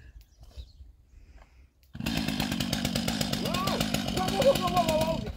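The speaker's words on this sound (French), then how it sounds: "Avec la tronçonneuse?" Chainsaw starting abruptly after a quiet moment and running loudly with a harsh buzzing drone, its pitch wavering as it revs, while voices chatter nearby.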